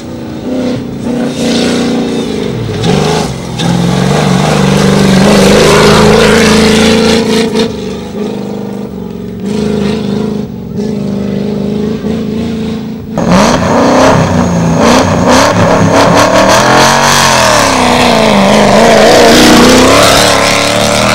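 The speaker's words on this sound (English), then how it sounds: "Nish Lakhani was on a mission in his new car and would set the fastest time on both laps" Rally car engine at Rally Raid Kenya, a driver pushing a new car for the fastest lap time; loud continuous revving and accelerating with shifting pitch, a brief drop-off around the middle, then roaring again close by.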